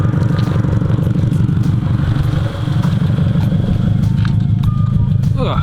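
Exhaust of a Subaru BRZ/FRS/86, recorded outside, held near 5,500 RPM against launch control. A loud, steady, droning rev holds throughout, with a brief dip midway.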